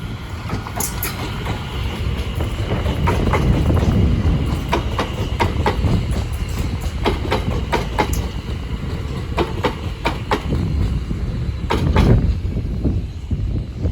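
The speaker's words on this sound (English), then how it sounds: "Now departing is the 1407 London Overground service from Watford Junction to London Euston, being worked by a class 710." Class 710 London Overground electric train departing Bushey on the West Coast Main Line toward Euston, a steady loud rumble of wheels with rhythmic clickety-clack over rail joints and sharp squeals and clicks throughout.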